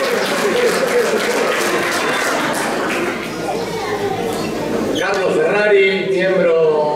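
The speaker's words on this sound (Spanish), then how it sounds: "Fuerte el aplauso para él también." An audience at a 50th anniversary celebration of a 1974 championship applauds loudly as a man comes to the stage, the steady clapping running several seconds before a voice speaks into a microphone.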